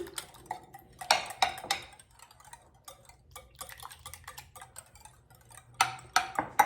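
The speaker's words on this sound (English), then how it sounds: "into the eggs, I want 1/2 cup of skim milk. Mix that in." A whisk or fork mixes skim milk into beaten eggs in a bowl, making quick, rhythmic clinking taps against the dish, close and moderately loud, with brief pauses between bursts.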